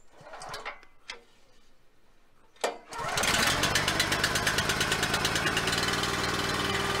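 A small engine on a wood splitter fires up after a few clicks and thumps, then settles into a loud, steady, rapid chugging idle as it warms up, close by and without speech.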